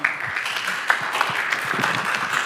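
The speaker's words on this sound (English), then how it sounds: "You know that you're allowed to clap your hands right now" Lecture hall audience clapping hands after a Q&A session, a dense, continuous patter of applause at moderate loudness with no talking over it.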